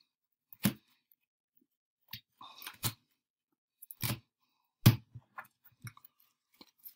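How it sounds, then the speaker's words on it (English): Playing cards shuffled by hand during a game of Klondike solitaire, a few separate riffling bursts and soft snaps spaced across a quiet background, close and moderately loud. "Kind of shuffle here."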